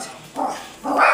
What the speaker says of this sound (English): Excuse me for my dog.